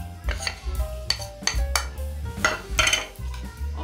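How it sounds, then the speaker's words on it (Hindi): A spoon stirs a ginger-garlic and gram flour fish marinade in a bowl, producing a close series of repeated clinks and scrapes against the bowl in an uneven rhythm, with no talking. "अदरक लहसुन हमने इसी में मिक्स कर लिया"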